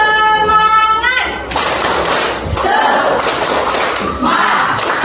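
Students in a classroom perform the rhythmic 'tepuk semangat' spirit clap, a burst of many hands clapping loudly together after a drawn-out voice, with voices mixed in over the clapping.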